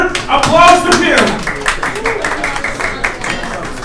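Audience members at a live ICO road show event in Hong Kong clap for a guest, a short burst of close, fairly loud applause that fades gradually, with people speaking over it.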